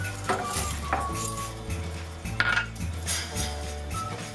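Semi-sweet chocolate stirred into boiling syrup in a pot, a utensil scraping and clinking against the metal over a steady bubbling hum, close by, with no talking.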